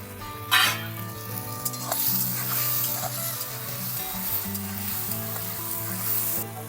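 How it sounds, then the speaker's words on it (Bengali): Green chilli, tomato and peas sautéing in a pan, a loud continuous sizzle with spoon scraping and stirring clatter, close up with no talking. "কাঁচা লঙ্কা টমেটো দিয়ে দিলাম মটরশুঁটি এখন আমি এগুলোকে ভালো করে কষিয়ে নেব"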